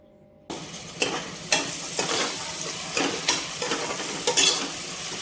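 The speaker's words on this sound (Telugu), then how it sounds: "ఇప్పుడు మూత ఓపెన్ చేసి ఒకసారి మళ్ళీ ఆనియన్స్ అంతా బాగా కలుపుకోవాలి" Onions frying in a pan for prawn curry being stirred, a continuous sizzle broken by repeated scraping strokes of a spoon against the pan roughly every half second, close and alone.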